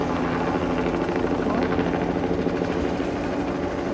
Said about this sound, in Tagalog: Kahit sa Taiwan, helicopter pang ginagamit pang spray